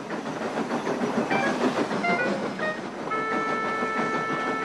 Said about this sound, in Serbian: Lokomotive su išle sve sporije i sporije.